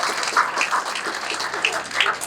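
An audience claps for a senior playwright and writer being honoured on stage at a ghazal gathering and literary awards ceremony, a moderately loud, even patter of hands with a few sharper individual claps rising above it.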